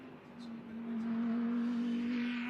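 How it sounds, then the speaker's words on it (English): The Cadillac V8 engine of a race car at the 12 Hours of Sebring holds a steady, droning rev and then swells louder. It is heard from a short distance, with faint track noise in the background. "A very anxious driver revving that Cadillac V8"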